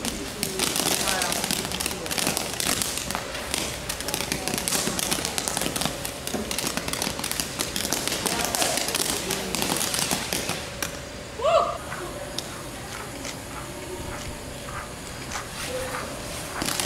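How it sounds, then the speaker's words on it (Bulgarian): Fireworks too dangerous for a show are set off in Taiwan, a dense run of rapid crackling bursts that stops abruptly, with scattered pops and faint tones after it while a voice speaks. "И аз завъртях фойерверки, които не бяха включени в шоуто, защото китайците ги сметнаха за прекалено опасни"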